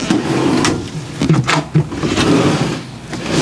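Several drawers slide open and shut in a row inside an Ilusion 5m90 camper van, a close, loud run of rolling scrapes and soft knocks with no talk.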